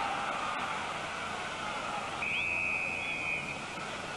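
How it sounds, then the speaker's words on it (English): A referee's whistle blows during a 1969 CFL football game between the Toronto Argonauts and BC Lions, one long steady blast over about a second, heard from a distance through the hiss of broadcast crowd noise. "the whistle went with Bill Lassiter making the tackle back at the 45-yard line"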